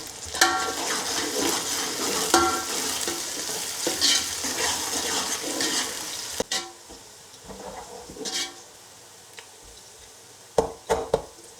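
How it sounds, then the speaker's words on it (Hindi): Onions frying in oil for mutton karahi, a busy crackling sizzle with repeated stirring scrapes, fading into quieter gaps broken by a few sharp clanks of a spoon on the pan. "प्याज की बुनाई हो रही है अभी।"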